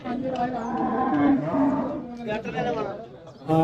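Cattle low loudly at the Pollachi livestock market, where cows, bulls and buffaloes stand tied after sale, with several drawn-out moos close by and market voices in the background.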